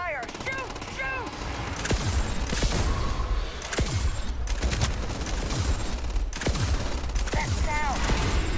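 Sustained gunfire from a firefight in the video game Starfield, with bursts of rapid shots and sharp cracks running throughout, loud and dense, while voices shout briefly over the opening moments.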